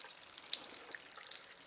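Water trickles faintly into a small container holding red reagent drops during a water ionizer test. Light, close splashes and drips sit over a quiet background.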